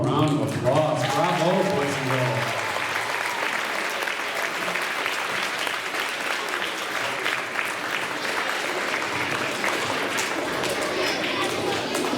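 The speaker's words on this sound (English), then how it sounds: "let's give them one more round of applause" Audience applause follows a third grade concert at Novi Woods: dense, steady clapping fills the room for about twelve seconds, and a few voices and cheers rise at the start.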